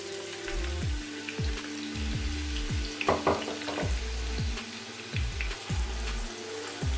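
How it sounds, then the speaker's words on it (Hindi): Onions fry in hot oil in a pot for potato tehri rice with a steady crackling sizzle, mixed with repeated low descending knocks and brief stirring clatter nearby, and no talking. "एक तेजकी में ऑयल गरम करके फिर इसमें प्याज को ऐड कर लीजिएगा"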